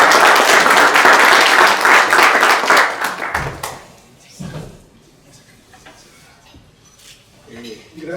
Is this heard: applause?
yes